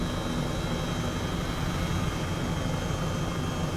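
Helicopter landing at Skinwalker Ranch, a loud, steady, close rotor and engine roar with a constant whine, unbroken throughout.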